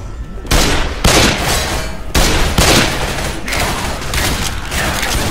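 Rapid bursts of gunfire in the zombie shooter video game Left 4 Dead 2, loud and continuous, with several heavy volleys repeating over a few seconds.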